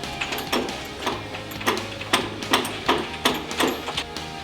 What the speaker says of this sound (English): we're going to tighten them into position using 9/16 inch wrenches